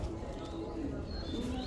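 Chila pigeons, three pairs of males and females, make soft low cooing close by, a steady murmuring burble lasting throughout with faint chirps above and a voice partly mixed in.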